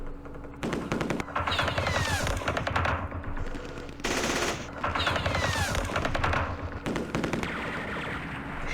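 Rapid machine-gun bursts and rifle fire from a Vietnam War strategy game set during Lam Son 719, several long, loud, close volleys separated by short pauses, with no talking.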